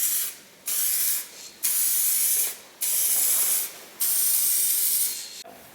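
A spray gun lays a second coat of paint on a first-generation Dodge Cummins truck, with five loud, close bursts of hissing spray separated by brief pauses, each burst lasting about a second.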